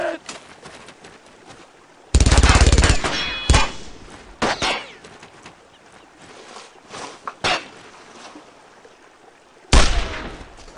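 Loud bursts of MG-42 machine gun fire crash out from a World War II battle in the video game Brothers in Arms: Road to Hill 30, rattling in several sharp volleys separated by quieter stretches.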